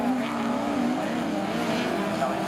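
Race cars at the Whiterose Rosebowl, led by a big Chevy, roar past in a continuous close engine drone beneath a commentator's voice.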